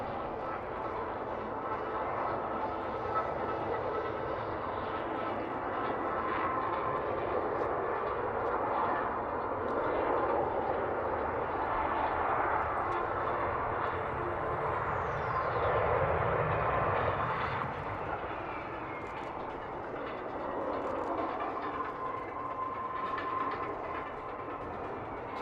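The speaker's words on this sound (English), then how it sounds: "the MV-22 Osprey." An MV-22 Osprey tiltrotor aircraft flies at the Iwakuni Friendship Day 2018 air show, a loud, steady roar of rotors and engines that swells mid-pass and holds without break.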